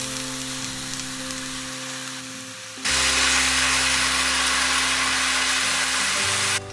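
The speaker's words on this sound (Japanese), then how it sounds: "両面焼き色がついたら、この鮭の中骨水煮を汁ごと加えます。" Canned salmon bones in their liquid poured into a pan of frying spring cabbage, a quiet sizzle that suddenly surges into a loud, steady hiss that holds for several seconds before easing.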